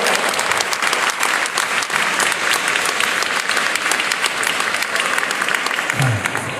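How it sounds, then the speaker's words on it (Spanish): A crowd applauds the organisers of Vegana Gal at a vegan cheese-making event, a loud, sustained, even roar of many hands clapping that continues unbroken, with a brief low voice-like sound near the end. "Un aplauso muy grande para la organización de Vegana Gal, por favor."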